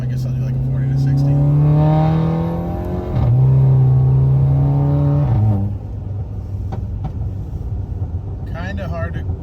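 A VW Tiguan with a DQ250 DSG gearbox accelerates from 40 to 60, engine droning loud and rising steadily, a quick shift near the middle, then easing off to a lower cabin rumble.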